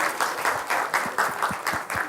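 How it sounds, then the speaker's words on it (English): Warm round of applause from a conference audience at a testing event, dense and steady clapping that holds at an even level throughout without pause. "So a warm round of applause for Pradeep."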